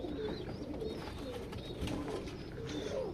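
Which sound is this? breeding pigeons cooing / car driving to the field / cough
breeding pigeons cooing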